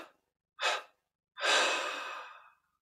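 A slow breath let out in three separate pushes during a guided meditation: a short soft puff, a pause, then a longer sighing exhale that fades out, close and quiet, with no talking.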